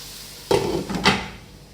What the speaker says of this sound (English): If you'd like to make your veggies cook faster, you can add a lid onto your frying